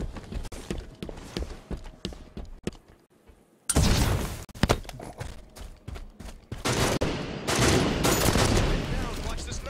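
Gunfire in the video game Halo, rapid bursts of shots and heavy fusillade, loud and dense after a brief quiet gap, mixed with other battle sounds.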